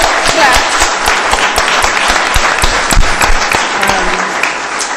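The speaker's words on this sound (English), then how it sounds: "let's give it a clap." Audience applause at a work experience event, dense and steady clapping from a room full of people lasting the whole stretch, with a faint voice or two underneath.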